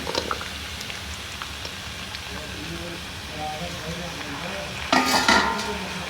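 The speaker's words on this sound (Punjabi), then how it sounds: "ਆਪਣਾ ਤੇਲ ਗਰਮ ਹੋ ਗਿਆ ਜੀ ਹੁਣ ਆਪਾਂ ਇਹਦੇ 'ਚ ਪਿਆਜ਼ ਪਾ ਲਾਂਗੇ ਟਮਾਟਰ ਪਾ ਲਾਂਗੇ ਫਿਰ ਲਸਣ ਪਾ ਲਾਂਗੇ" Onion, tomato and garlic frying in hot oil for a restaurant-style shahi paneer, a steady close sizzle with stirring scrapes throughout and a louder burst of hissing near the end.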